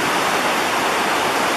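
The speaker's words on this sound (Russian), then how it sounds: "Вот пением этой реки." The Mzymta river flows with a dense, steady rushing roar, loud and close, with no voices over it.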